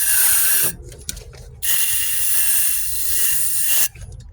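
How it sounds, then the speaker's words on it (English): Brake cleaner hissing from an aerosol can in two bursts, one short and one longer sustained spray, close and fairly loud, with mechanical clicks between. "I'm gonna spray some brake cleaner."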